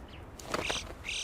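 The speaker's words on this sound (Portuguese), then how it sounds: "A gralha de bico amarelo é parente do corvo comum e pode ser encontrada em todos os Alpes" A yellow-billed chough in the Alps gives a brief call, a couple of quick high-pitched chirping notes over faint background noise.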